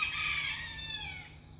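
A rooster crows near a rural cabin where semi-wild chickens roam, one drawn-out call ringing fairly close and alone, with a faint low hum underneath.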